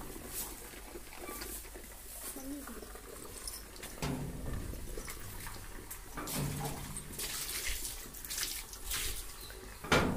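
Water splashes and runs as a child washes a school bathroom in Mullampatti, Erode district, Tamil Nadu, a steady wet patter with louder bursts, close and fairly faint.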